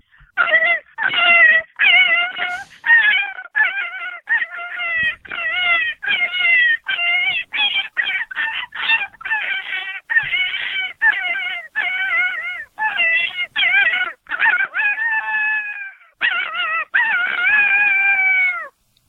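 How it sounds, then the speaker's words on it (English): An electronic predator call plays a rabbit distress sound: a long run of loud, close, wavering high-pitched squeals in rapid bursts, ending in a drawn-out howl-like wail. "So we'll do rabbit distress, and we'll cut it off with a howl."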